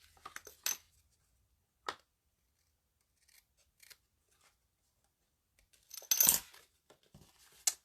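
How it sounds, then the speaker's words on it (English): Scissors snip off the end of a paper banner during card making, a few sharp, close cuts spaced across quiet stretches, with one longer cluster of rustling snips near the end. "so I'm going to just snip this end of this banner off."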